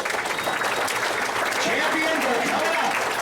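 A banquet audience at Brown County Speedway keeps up steady, dense applause for the late model drivers, with crowd murmur mixed into the clapping throughout.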